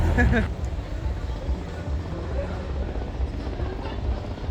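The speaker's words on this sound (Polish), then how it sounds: "Poleciałabym takim helikopterem." Helicopter flying at an outdoor truck event, a steady rumbling engine and rotor drone that stays loud and continuous throughout, with a brief burst of voices at the start.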